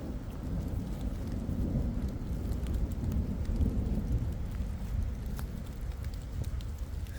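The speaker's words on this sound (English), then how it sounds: "the rain is coming and going, so I'm going to continue" Steady rain falls at St. Mark's Cemetery in Niagara-on-the-Lake, a dense low patter and rumble on the ground and leaves with occasional drops, with no talk.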